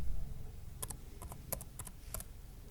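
Someone types a search on a computer keyboard: a short burst of light, close key clicks in an irregular rhythm over a low background hum.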